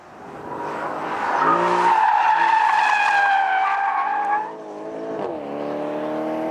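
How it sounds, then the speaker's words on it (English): A 2013 Porsche Panamera GTS makes a hard launch, tires squealing in a loud sustained howl over the revving engine for several seconds, then dipping before a quieter squeal continues, close and without talk. "You hit the Sport Plus button, hit both pedals, and then lift off the brake."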